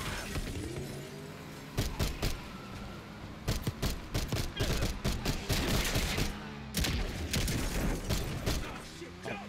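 Bursts of gunfire in Call of Duty Black Ops 6 crack through a busy game soundscape, with clusters of rapid shots, shattering and mechanical clatter repeating loudly over several seconds.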